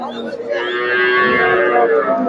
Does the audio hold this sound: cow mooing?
yes